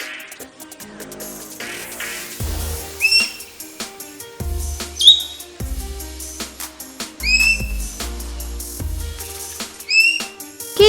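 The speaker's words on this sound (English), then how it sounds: "Javan green magpie." Javan green magpie calls: short, sharp rising whistles repeated several times over a steady musical backing.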